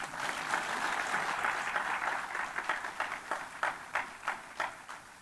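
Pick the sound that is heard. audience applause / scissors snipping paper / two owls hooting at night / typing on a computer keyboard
audience applause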